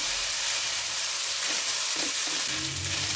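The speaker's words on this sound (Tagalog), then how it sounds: "Ilatag ang pasta sa lutuan para maprito yung ilalim." Pasta for chicken chow mein fries in an oiled pan with a steady, close sizzle that stays loud and continuous, with faint stirring scrapes toward the end and no talking.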